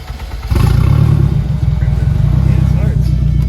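A turbocharged K24 engine in a Honda Civic EK coupe cranks and catches after a half-second, then settles into a loud, close, pulsing idle, with faint voices in the background.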